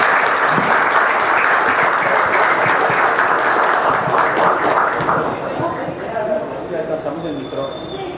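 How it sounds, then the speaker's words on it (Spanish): An audience applauds at a cultural awards launch event, dense sustained clapping that fills the room and then gradually thins and fades, with a voice speaking near the end. "Recibamos con un fuerte aplauso a doña Lucía Correa Echeverri."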